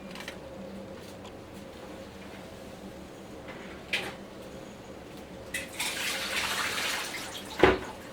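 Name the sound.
water draining from a pot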